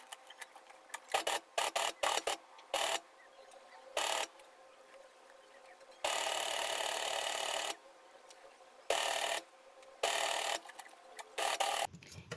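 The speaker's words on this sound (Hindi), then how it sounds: "ये कटिंग करने के बाद अब हम यहाँ पर सिलाई करेंगे।" Sewing machine stitching a flat collar during dress making, running in several short bursts of varying length with pauses between them, loud and close with no talking.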